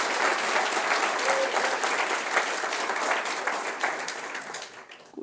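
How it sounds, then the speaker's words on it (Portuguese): A church congregation breaks into loud, sustained applause after being urged to praise God, a dense wash of clapping that holds steady, then thins and fades toward the end. "aplauda forte, que é para Ele"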